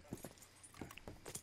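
Horse hooves clip-clopping in the video game Red Dead Redemption 2, a few soft, uneven hoof strikes at low volume, with faint jingling of tack between them.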